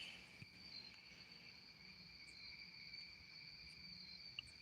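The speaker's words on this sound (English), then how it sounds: "You hear those crickets out there chirping in the background?" Steady, high-pitched cricket chirping carries on throughout, continuous and fairly faint, like insects calling outdoors at night.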